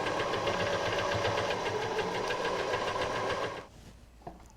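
A sewing machine stitches along a cushion, a steady close mechanical whirr with a fast rhythmic needle chatter that runs evenly for several seconds, then cuts off abruptly, leaving near silence with a faint click.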